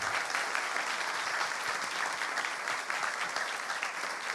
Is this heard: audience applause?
yes